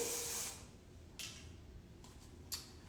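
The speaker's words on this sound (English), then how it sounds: "apply my anti-humidity spray" A short burst of anti-humidity hair spray hisses up close, followed by a few brief, fainter spritzes against quiet background.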